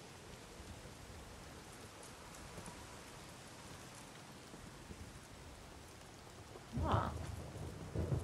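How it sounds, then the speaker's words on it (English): Steady rain hisses throughout an open-world zombie survival game scene, with a deep rumble of thunder rolling in near the end and a brief spoken murmur. "It's still raining?"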